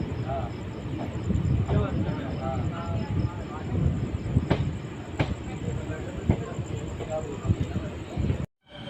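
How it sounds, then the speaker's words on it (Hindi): The Mussoorie Express pulls into Raiwala Junction on the Dehradun–Delhi line with a loud, steady rumble of rolling stock, a few sharp knocks and clanks, and voices murmuring underneath; the sound cuts out abruptly at the end. "हमारी मसूरी एक्सप्रेस पहुँच चुकी है रायवाला जंक्शन"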